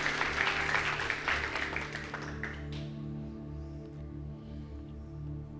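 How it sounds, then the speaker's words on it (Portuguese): A church congregation applauds during a worship service, with dense clapping that fades over a few seconds beneath sustained organ or keyboard chords. "aplauda bem forte, é para Jesus"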